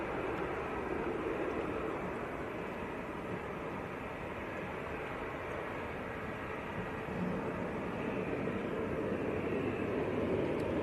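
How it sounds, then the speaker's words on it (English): British Airways Airbus A319 landing at Manchester Airport after a flight from Heathrow, heard as a steady, broad jet roar that holds at an even level throughout, with no voices over it. "They got British Airways just touched down as well, in from Heathrow. Looks like an A319."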